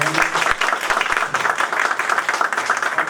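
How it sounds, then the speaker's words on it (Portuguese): Audience applause for a speaker at the close of a career-structure lecture, steady dense clapping from a room of listeners, close and continuous with a few low thumps early on. "Pedir uma salva de palmas para o nosso palestrante"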